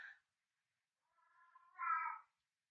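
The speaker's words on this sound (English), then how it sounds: "My cat's complaining." A cat gives a short faint cry, then after a pause a rising, drawn-out complaining meow, close by in an otherwise quiet room.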